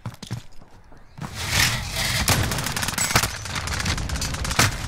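Gunfire in the shooter game Call of Duty: Modern Warfare, with a few sharp shots early, then a busy stretch of rapid, cracking bursts and impacts layered over one another, loud and close.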